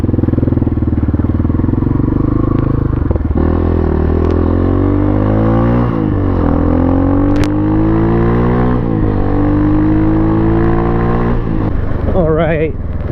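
A Pitster Pro XTR250 dirt bike fitted with a universal hydraulic clutch is ridden in first gear, its loud, close single-cylinder engine repeatedly revving up and dropping back in rising sweeps, with some talk over it.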